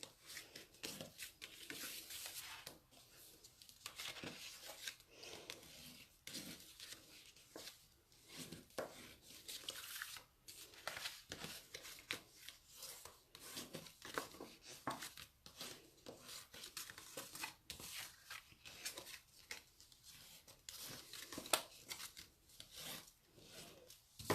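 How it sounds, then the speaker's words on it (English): Steady, rhythmic rubbing and scraping as paper score lines on a card box are folded and burnished, strokes repeating closely and evenly for the whole stretch at a low, intimate level. "I'm just going to fold and burnish each one of these lines so that we get nice crisp folds on our box"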